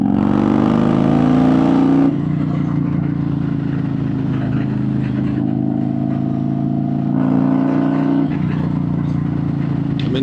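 A Harley-Davidson motorcycle engine revs under throttle, a loud, close, steady growl that rises in pitch, drops back to a lower drone, then climbs again, with no speech.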